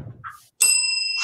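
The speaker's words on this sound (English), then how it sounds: "Where's my bell? Ding." A small handheld bell struck once, a sharp bright ding that rings on with a clear sustained tone after a brief mumble and a pause.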